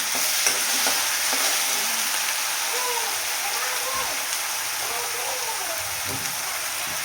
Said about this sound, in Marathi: आता आपण चटणी, हिरवी मिरची आणि लसूण आहे ते छान तेलामध्ये परतून घेऊया